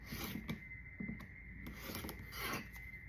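Close, quiet scraping and rubbing as a fabric quilt block is trimmed, a few short strokes over about three seconds with no talking.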